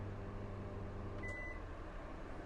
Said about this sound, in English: I'm running an air conditioner on heat and a microwave simultaneously